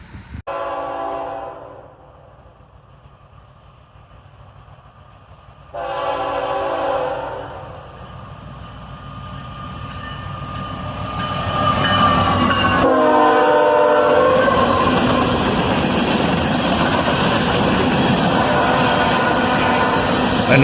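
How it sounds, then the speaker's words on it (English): A CSX northbound empty coal train led by ET44AH and ES44AC locomotives sounds its horn in two loud blasts, then roars in close with heavy engine rumble, screeching flanges and rolling rail noise building to a sustained pass. "A northbound empty coal drag, led by an ET44AH and an ES44 ACH."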